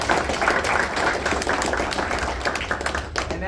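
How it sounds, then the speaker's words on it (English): A crowd applauds school staff such as security guards, lunchroom ladies and teachers at a football signing day, steady dense clapping that stays fairly loud throughout with no break. "So let's give a big round of applause to all."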